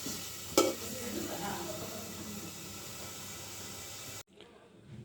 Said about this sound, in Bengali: এখানে লাউ রান্না করার জন্য কাঁচামরিচ আর পেঁয়াজ তেল দিয়ে একটু ভাজি করে নিচ্ছি